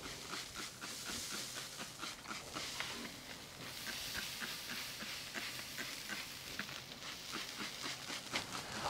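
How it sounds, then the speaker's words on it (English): Spray bottle spritzing a pork butt on a Solo Stove grill, heard as steady hissing sizzle with repeated short spray bursts, close and continuous, with no talking. "So let's spritz this."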